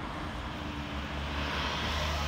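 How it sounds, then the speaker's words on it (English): A jet airplane passes high over Los Angeles, heard as a steady distant roar that swells slightly toward the end. "There's a fresh jet right there."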